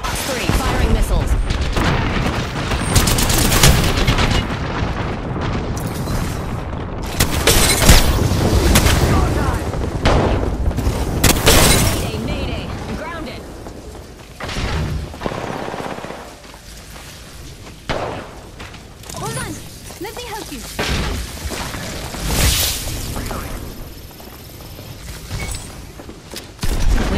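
Gunfire and missile launches in Apex Legends, with dense bursts of shots, booms and thuds close and loud for much of the clip, easing off toward the end, under a player's talk.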